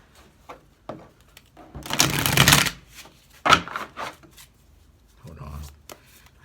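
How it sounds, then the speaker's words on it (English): Tarot cards riffled in a couple of loud bursts, a long one followed by shorter shuffles, with quiet pauses between. "Let's shuffle this up too. All right, so hold on, one more shuffle."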